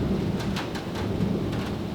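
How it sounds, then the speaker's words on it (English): Thunder rumbles low and continuously during an unusually heavy rainstorm, with the dense hiss of rain on surfaces filling the background, steady and loud throughout, with no voices. "You hear that thunder?"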